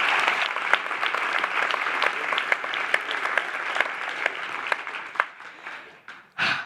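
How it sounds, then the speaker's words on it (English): A conference audience at an opening show gives sustained applause, a dense, steady clatter of many hands that thins out toward the end before one last burst. "let's give a big applause to both Fee and all the volunteers"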